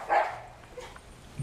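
One sharp bark comes from a dog outside, agitated by the wind, followed by quieter, fainter yelps and a brief noise at the end.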